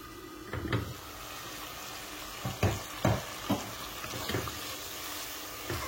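Spice paste fries in oil in a pan for a Bengali bashpata fish curry and is stirred, with a soft continuous sizzle and several distinct scraping, clattering strokes of a spoon.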